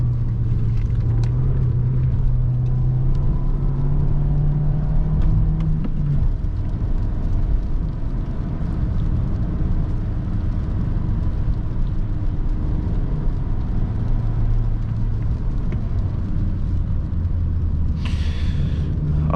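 A Volkswagen Passat drives up a winding mountain road, its engine droning steadily inside the cabin and rising in pitch as the throttle opens, with constant road and tyre rumble and no talking.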